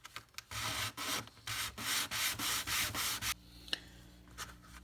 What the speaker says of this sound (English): So I'm going to have to sand on it a little bit more.